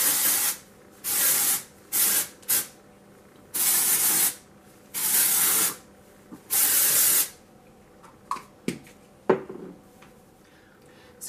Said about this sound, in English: let's spray some dry shampoo in it first